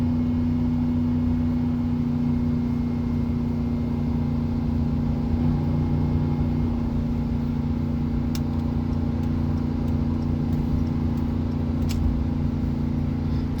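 A 2005 Chevrolet Silverado pickup towing 6,000 pounds up a long, steep 7% grade, with a steady, loud engine drone and road rumble inside the cab, continuous and unchanging, with a few faint clicks.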